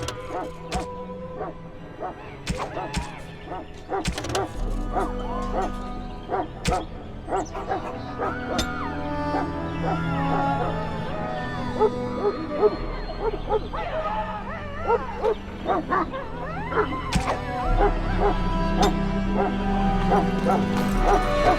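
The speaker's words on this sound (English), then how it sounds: "Get that bloody mutt out of the larder." A dog in a castle larder in Dragon Age Origins barks, yips and whimpers repeatedly throughout, mixed with people talking and game ambience.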